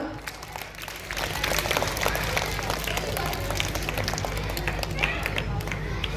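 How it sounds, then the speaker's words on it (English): A school assembly audience of Grade 2 pupils claps in a dense, steady wash of applause that swells after the first second and holds loud to the end, with faint voices mixed in underneath. "Please clap everyone."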